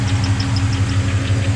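An LS1 V8 swapped into a GU Patrol idling with a quiet exhaust, a steady low rhythmic rumble close by, a faint periodic tick riding above it.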